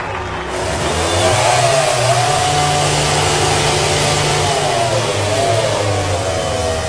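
A MotoGP motorcycle engine revs loudly during a celebratory burnout at Valencia, producing a sustained high roar with rising and falling pitch sweeps, close and continuous.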